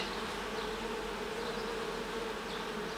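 Honeybees in an open Ukrainian-Alpine hive, where they have begun capping honey, give off a steady, close, dense buzzing hum that holds evenly throughout with no voices.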